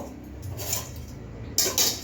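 A metal lid set down over a dish of cabbage in a home kitchen, with a couple of brief clinks and clatters of cookware over a faint background hum.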